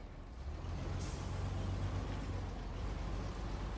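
A heavy truck idles and rumbles low and steady nearby in the off-road driving game SnowRunner, with a brief hiss at one point and no talking.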